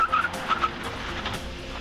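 A 2018 Volkswagen Golf R with brakes from the GTI Performance Package stops hard on a two-lane road, and its tires squeal in a short, high-pitched chirp over loud, steady road and engine noise.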